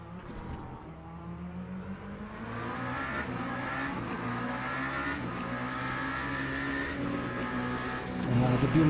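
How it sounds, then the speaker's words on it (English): A BMW race car accelerates in a long endurance racing video game, its engine note climbing steadily through the gears as a loud, continuous harmonic drone, with other cars' engines and faint tire noise mixed underneath. "The BMW acceleration."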